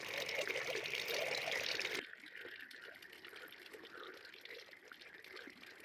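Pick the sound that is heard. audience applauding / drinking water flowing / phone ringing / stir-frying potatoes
drinking water flowing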